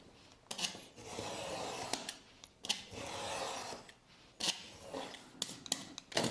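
Scissors snipping through a paper pattern for a mini tote bag, close and crisp, in several runs of rubbing, slicing strokes separated by short pauses.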